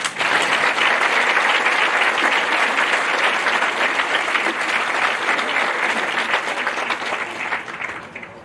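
A crowd applauds graduating students at a high school graduation ceremony, with thick, continuous clapping at full strength that slowly thins and fades near the end.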